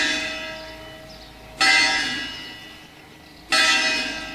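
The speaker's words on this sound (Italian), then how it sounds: "Ah, c'abbiamo pure la campana." A bell rings at the castle in Gagliano Aterno, two loud, bright strikes about two seconds apart, each leaving a long, slowly decaying metallic hum.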